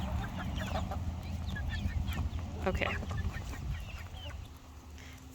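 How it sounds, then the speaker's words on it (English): Chickens clucking and calling together on a small farm with a wool mill, a steady cluster of hen sounds close by, with a brief spoken word over them. "So there's lots of chickens."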